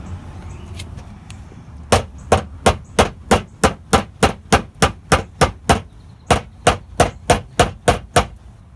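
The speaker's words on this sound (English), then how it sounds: "hit it with a fucking hammer" A hammer strikes a car fender during fender rolling, about twenty loud, close, evenly spaced metallic blows in a steady rhythm after a quieter start.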